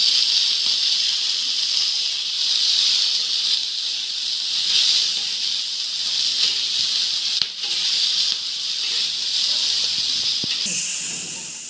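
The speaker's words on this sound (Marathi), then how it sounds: "नंतर टोमॅटो टाकते. थोडंसं तेल सोडते याच्यावर." Tomatoes sizzling in a little hot oil in a pan for an egg curry, a continuous bright hiss that holds steady throughout, with a brief sharp click partway through.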